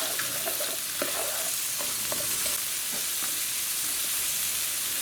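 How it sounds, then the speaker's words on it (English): Frozen peas and carrots fry for fried rice with a soft, steady sizzle, broken by scattered scrapes and clinks as they are stirred in the pan. "these are frozen peas and carrots and they're still a little cold, so that's why I'm putting them in here now and letting these kind of cook a little extra"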